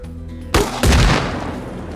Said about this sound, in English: Heard the tires blow out from the fragmentation there.